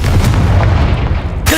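The Confringo blasting curse goes off in Hogwarts Legacy as a single loud, close explosion with a heavy rumbling boom that lasts just over a second and ends in a short burst of noise.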